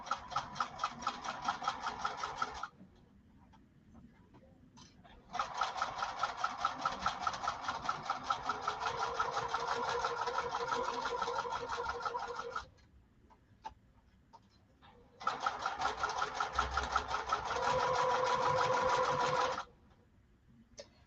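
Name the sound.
sewing machine stitching a lining at stitch length 3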